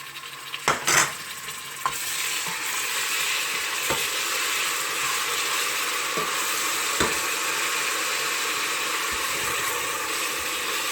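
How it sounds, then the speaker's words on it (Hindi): Ginger and garlic paste sizzles steadily in a pan with browned onions for kofta curry, with a few sharp utensil scrapes and clinks from stirring early on. "अब इसमें ऐड करूँगी अदरक और लहसुन का पेस्ट"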